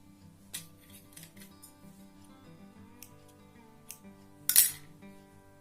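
Scissors snipping thread while making a tassel for a bridal saree: a few quiet, scattered metallic clicks over a faint background, ending in one sharper, louder cut near the end.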